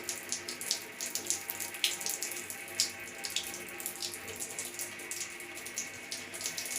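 Water streams from a lowered shower head fed by a Grundfos twin impeller regenerative booster pump, a steady close hiss of spray with light splashing throughout, no voices.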